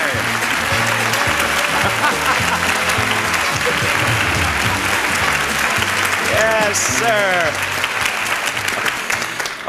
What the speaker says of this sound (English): you came down the aisle leading the applause yourself